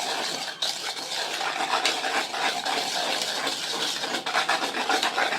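A spoon scrapes and rubs steadily through a mixture in a bowl while cooking at home, a continuous close gritty stirring sound with small clinks and no talking.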